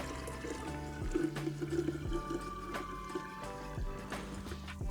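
Cooled, room-temperature kombucha tea is poured into a jar, a soft continuous liquid trickle at close range that is fairly quiet and unbroken by speech.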